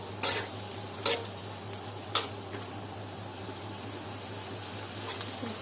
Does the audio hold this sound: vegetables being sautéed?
yes